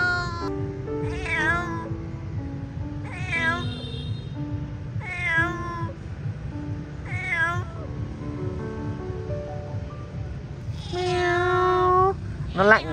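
A shivering, cold calico cat, a pregnant mother rescued from a slaughterhouse, gives about seven clear, fairly close meows in a steady series over a low rumbling background.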